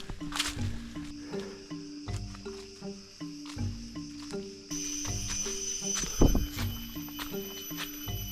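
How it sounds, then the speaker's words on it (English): Loud, steady chorus of crickets and other insects on Mount Jerai, a dense high-pitched shimmer with layered tones, a sharp burst near the end and low rumbling underneath. "The crickets they have here,"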